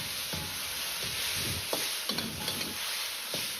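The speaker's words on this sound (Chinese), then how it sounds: "放入适量的盐一起翻炒" Potatoes and eggplant stir-fried in a wok with salt, a soft steady sizzle broken by repeated scraping and tossing strokes of a spatula, close and fairly quiet with no voices.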